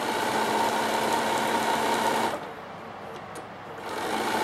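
A Bernina sewing machine stitches a fabric produce bag in a steady fast whir, pauses briefly, then starts again, close and loud with no talk.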